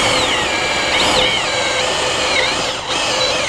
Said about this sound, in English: Using one of these self-drilling screws.